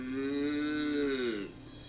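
A cow in a paddock gives one long, loud, close moo that holds steady and then falls away, heard alone with no talk.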